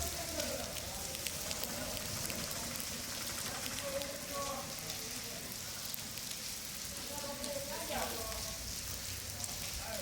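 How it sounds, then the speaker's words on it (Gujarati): Steady hiss of monsoon rain falling on surfaces in Talaja, Gujarat, constant and even throughout, with faint indistinct voices in the background. "તળાજામાં વરસાદ વધુ છે"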